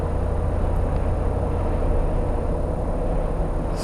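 A Jeep Wrangler JK with a 6.2 V8 and an eight-speed transmission cruises in eighth gear at steady throttle, giving a constant low engine drone and road rumble with no change in pitch.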